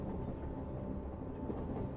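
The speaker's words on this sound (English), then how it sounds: "The soft, rhythmic sound of the wheels against the tracks. Click, clack, click, clack." A train rolls along its tracks with a steady, full rumble, its wheel clatter blended into a constant low roar, close and unbroken throughout.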